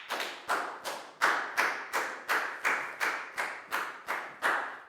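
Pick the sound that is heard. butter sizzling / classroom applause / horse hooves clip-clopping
classroom applause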